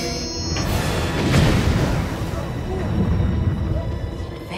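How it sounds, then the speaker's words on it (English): An explosion in the core of a shuttle produces a loud, broad rumbling roar that swells and then holds for several seconds as a heavy, sustained blast. "We've had an explosion in the core shuttle."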